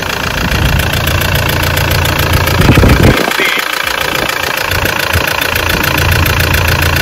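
Toyota Land Cruiser Prado J90 with a 1KD diesel engine suffering blowby idles close by, a steady loud clatter with a brief dip in the middle.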